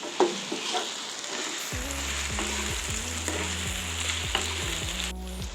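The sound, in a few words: pumpkin frying in a pan with salt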